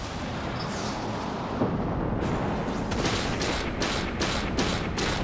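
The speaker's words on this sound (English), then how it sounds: "Launch flechettes." In a space combat video game, flechettes launch in a dense rushing volley, a loud rumbling barrage with a series of sharp whooshing bursts pulsing in rapid succession.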